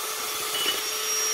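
A drill fitted with a sandpaper attachment strips paint from a boiler, giving a steady, close abrasive hiss and grinding rush that holds evenly throughout without pauses.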